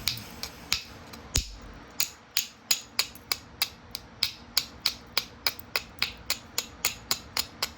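Flint knapping by direct percussion: a steady series of about twenty sharp, close clicks of small flakes being struck off a flat stone edge, evenly spaced and fairly loud, with no voices.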